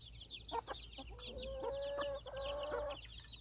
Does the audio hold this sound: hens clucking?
yes